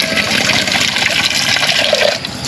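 Water is poured for free-range broiler chickens on a farm, a steady loud splashing rush that runs continuously for a couple of seconds with no talking.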